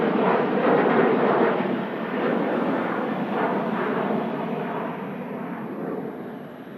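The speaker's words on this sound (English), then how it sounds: "Finnair heading out to Helsinki. A bit smaller, that aircraft." A smaller Finnair airliner departs for Helsinki, its engines roaring steadily as a loud, broad rumble that fades slowly as it moves away.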